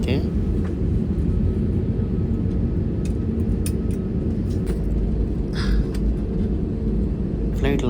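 An airliner on the runway just after landing on a Goa to Bengaluru flight gives off a steady, deep rumble throughout, with faint voices and a few brief clicks over it.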